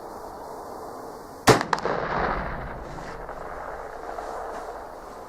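A single sharp shot from a Tingle .44 pistol cracks out loudly outdoors, followed by a brief rumbling echo and then quiet ambient noise.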